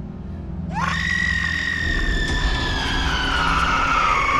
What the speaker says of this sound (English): What is with the screaming?